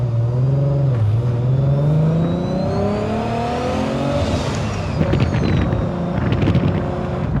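A 2.8-litre Nissan Skyline R34 engine accelerates, its droning tone climbing steadily in pitch under a constant wash of wind noise, with a brief dip before the revs build again.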